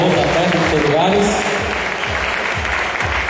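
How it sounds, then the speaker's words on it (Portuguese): Audience applause at a bodybuilding competition in Paraíba, steady dense clapping from a crowd, with an announcer's voice talking over it through the opening seconds. "Aplausos, pessoal, para essa categoria."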